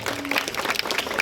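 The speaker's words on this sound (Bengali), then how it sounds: "সবাই বিশুদার হাততালি পেতে ভালোবাসে, হাততালি পাওয়ার জন্য শেষে নিজেই মাইক টেনে" Applause at a Durga Puja pandal of a club in Dinhata, a dense crowd clapping that runs steadily through the short moment, fairly close and moderately loud.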